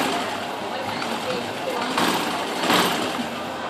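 A sewing machine stitches a shirt collar with a steady, fast mechanical whirr close by, rising slightly in two short bursts, while someone talks over it.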